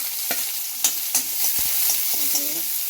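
Shallots sauté in a pan with a bright, steady sizzle and a few stirring scrapes and knocks scattered through it; no voices.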